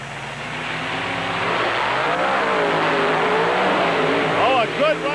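Powerful truck engines roar and rev loudly as trucks race, including a black Dodge Rampage, with a crowd or announcer's voice faintly mixed in beneath the steady mechanical noise.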